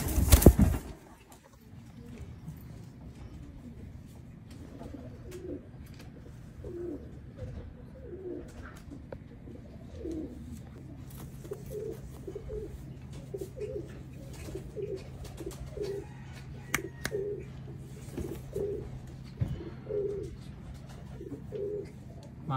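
Pigeons coo repeatedly in a loft, soft rhythmic calls recurring throughout over a low steady hum, with a brief loud knock at the very start.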